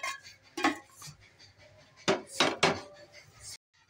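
A metal lid clanks and scrapes against a cooking pot of chicken dalia, giving several sharp, close knocks of metal on metal before falling silent.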